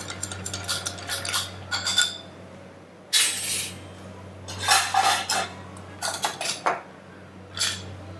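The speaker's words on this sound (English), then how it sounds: "And a nice gentle stir." Bar spoon clinking and scraping against a mixing glass of ice while a Manhattan cocktail is gently stirred, a close series of bright, irregular rattling clinks in short bursts with brief pauses.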